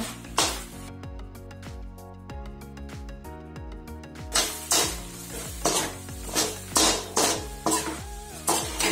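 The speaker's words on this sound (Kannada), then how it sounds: "ಈಗ ಇದಕ್ಕೆ ಫ್ರೈ ಮಾಡಿದ ಬೆಂಡೆಕಾಯನ್ನು ಹಾಕಬೇಕು. ಚೆನ್ನಾಗಿ ಮಿಕ್ಸ್ ಮಾಡಬೇಕು." Fried okra (bendekayi) being mixed into masala in a pan, a series of distinct metallic spatula clanks against the pan at a slow, regular pace over a soft background sizzle.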